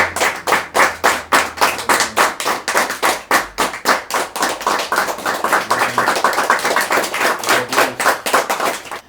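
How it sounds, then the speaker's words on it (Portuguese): Steady, fast rhythmic clapping from a church congregation, loud and close, continuing without pause and without voices. "vamos aplaudir o Senhor"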